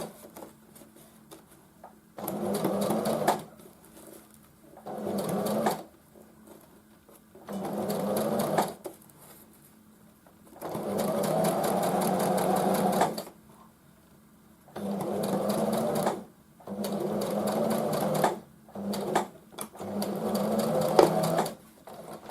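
Sewing machine stitching bits and bobs onto journal pages in bursts of a few seconds each, separated by short pauses, with a steady mechanical whir close up and no talking.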